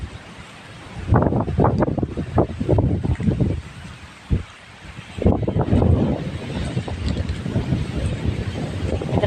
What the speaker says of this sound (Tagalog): Sarap yung hangin talaga dito.